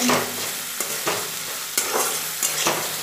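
Spices with turmeric and sugar are stir-fried in a pan with potatoes for uchhe aloo posto, a loud close sizzle punctuated by four or five rhythmic scraping strokes of a spatula.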